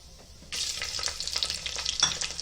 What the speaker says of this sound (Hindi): हरी मिर्ची डालेंगे।